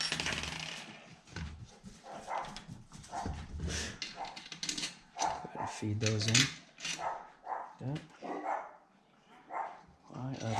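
Dogs bark repeatedly in a workshop while a Creality Ender 3 Pro 3D printer is being assembled, barks popping out near and loud alongside metallic clinks of tools, with someone talking between them.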